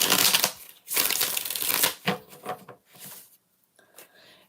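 Tarot cards being shuffled by hand in several bursts of crisp riffling and flicking, loudest early on and then tapering into softer, sparser card sounds, heard up close with no talking.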